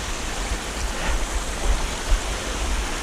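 Armageddon Falls on Armageddon Creek, a steady broadband rush of falling water heard up close, loud and unbroken with no voices.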